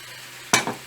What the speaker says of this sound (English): when the oil becomes hot, then deep fry them tomatoes